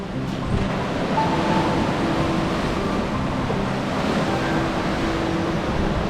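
Sea surf rolling against a rocky shore by a sea cave, a continuous loud wash of waves and wind noise with no distinct single crashes and no one talking.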